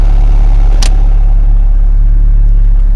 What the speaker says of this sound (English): Okay, so the RV is running.